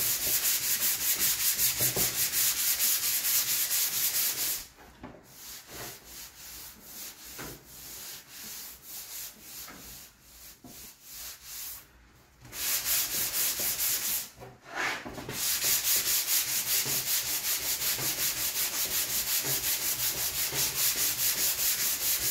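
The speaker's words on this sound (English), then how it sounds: "I'm just doing that lightly, and I'm letting the sandpaper do the work" Light hand sanding of a plastic motorcycle fairing on a Yamaha TZR 250 3MA with sandpaper, a steady close scratchy rubbing that keeps going with brief pauses and lighter strokes midway.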